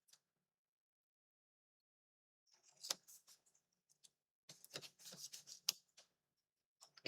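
Scissors snipping patterned craft paper in short bursts of crisp, close cuts separated by pauses, with no talking.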